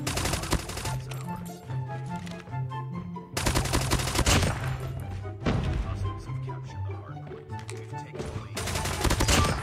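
Short, punchy bursts of Razorback SMG fire in Call of Duty Mobile, loud and near, with quick strings of shots broken by brief pauses and dull thuds between them.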